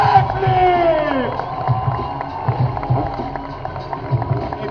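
A crowd at an outdoor motocross freestyle show in Sacile in 2013 cheers and claps after a backflip, a broad wash of noise beneath a loud announcer's voice over the PA.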